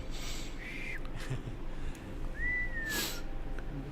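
Two soft gliding whistles ring out in the video game Never Alone (Kisima Ingitchuna), one brief and one longer rising and falling tone, over a faint breathy, hissing game ambience.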